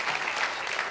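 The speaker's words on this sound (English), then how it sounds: "why don't we give Dee and Andrea a round of applause" Applause from a church congregation rolls on through the moment, a dense wash of many hands clapping at once with no break.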